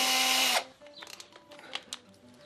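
A power drill with a bit fitted whirs loudly and steadily for half a second, then stops, leaving quiet clicks and handling noises as the tool is held.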